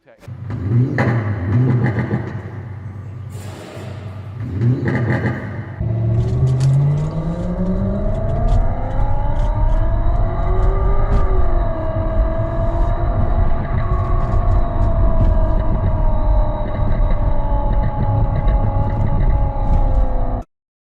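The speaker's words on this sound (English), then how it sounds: "being a Tesla owner, you would draw attention on the road because of a loud exhaust" A Tesla's loud simulated exhaust sound revs up, its pitch climbing into a sustained, droning roar after a few seconds of noisy bursts at the start.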